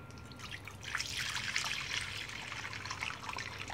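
Ethanol solution of cannabis resin trickling and dripping through a filter, a steady close-up patter of small drops and fine liquid dribble over a low background hum.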